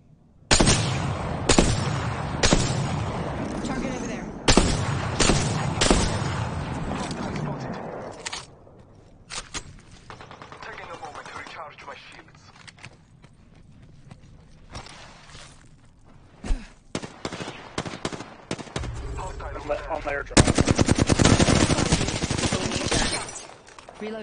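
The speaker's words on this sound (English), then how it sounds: "I'm taking fire." Gunfire in the battle royale game Apex Legends crackles in loud rapid bursts and single shots, with quieter stretches of movement in between and game voice lines spoken over the action.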